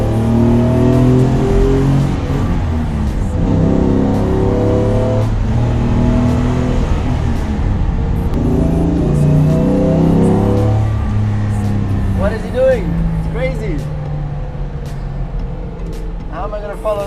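A 1955 car's engine strains as it accelerates up a mountain road, a loud, close, steady drone with rising and shifting tones that eases off near the end, with people talking over it.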